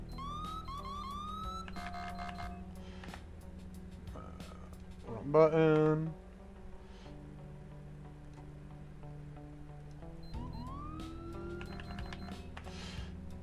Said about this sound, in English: So we got all different sirens, and you can click on the different profiles.